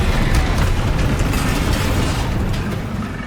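A Bombarda spell explosion in Hogwarts Legacy, a loud, sustained rumbling blast with dense low-end roar that holds steady for several seconds and slowly eases, with no speech.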